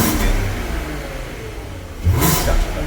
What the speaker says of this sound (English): And we just start the car up.